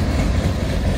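A local freight train on the steep Rat Hole grade gives a brief, heavy low rumble of engine and rolling cars, steady and fairly close, with no talk.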